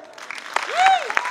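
Audience applause at a contemporary Bharatanatyam fusion dance show forms a steady wash of clapping throughout, with a gliding voice or tone rising over it in the middle.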